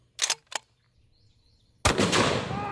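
A 750-grain A-Square rifle fires once with a massive, close blast after a few seconds of near silence and two brief clicks, the heavy boom rolling on with a long echo.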